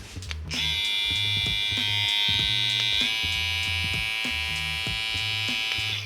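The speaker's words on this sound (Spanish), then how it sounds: "En esta máquina de BRD tenemos un motor rotativo normal. Escuchen y vean" Cordless hair clipper with a standard rotary motor, switched on and running: a steady, close, high buzzing whine that shifts slightly in pitch partway through, over faint background thumps.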